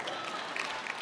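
Hands clapping during a church sermon, a soft, even patter of applause that blurs into a continuous wash, fairly faint and distant.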